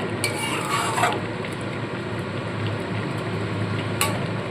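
Pumpkin ghugni being stirred thoroughly in a pan, a dense continuous scraping and bubbling texture with a couple of brighter spoon knocks against the metal, close and unaccompanied by talk.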